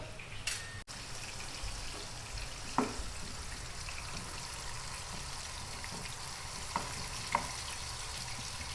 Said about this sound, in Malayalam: നല്ലോണം ഒന്ന് പരത്തി വെച്ചിട്ട് ചെറിയ ഫ്ലെയിമിലാട്ടോ ടൈം എടുത്തിട്ട് അത് ഫ്രൈ ആയിക്കോട്ടെ